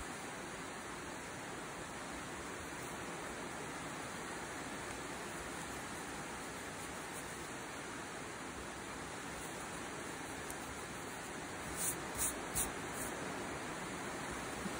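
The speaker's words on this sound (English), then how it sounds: "You probably hear the rain just starting up." Light rain just beginning, a soft, even hiss of steady patter that carries on quietly throughout, with a few faint clicks near the end.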